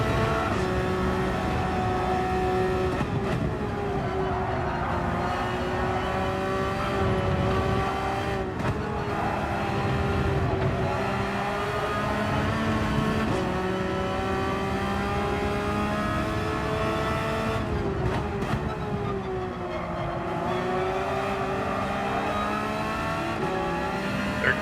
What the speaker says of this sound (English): Comes the Ferrari.